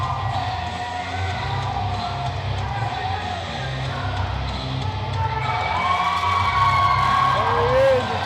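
Wrestling event crowd roaring and cheering steadily as a wrestler is introduced, a dense continuous wall of voices with shouts and whoops rising near the end, with a commentator talking over it.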